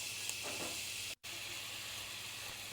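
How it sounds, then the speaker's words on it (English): Chopped onion hits hot oil in a saucepan, giving a loud, continuous broadband sizzle and hiss that drops out for an instant before resuming steadily. "Then we're gonna heat our saucepan, add in some oil, then our chopped onion"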